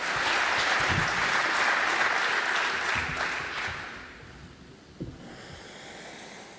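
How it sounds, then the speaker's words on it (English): An audience at a tech conference applauds for a first-time speaker, the clapping loud and dense at first, then thinning and fading out, with a few isolated claps near the end. "so extra round of applause"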